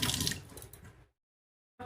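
Lotka fruit rinsed under running water, giving a close, splashy wash for about a second that breaks off into silence before the flow returns briefly at the end.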